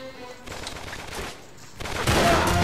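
Bursts of gunfire in the Uncharted 3 video game, rapid shots in two loud clusters separated by a brief lull, the second burst louder and closer.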